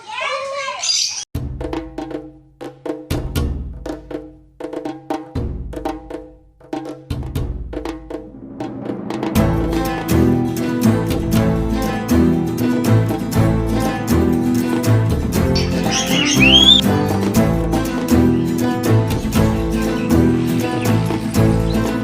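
Birds chirp and squawk in a bird park at Yelagiri, with sharp calls rising over a busy, steady background of mixed sound that grows denser midway, and voices murmuring now and then.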